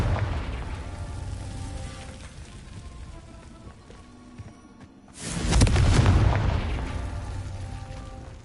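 Confringo fire spell cast in Hogwarts Legacy, a steady crackling rumble of game ambience that swells abruptly into a loud booming explosion past the five-second mark and lingers.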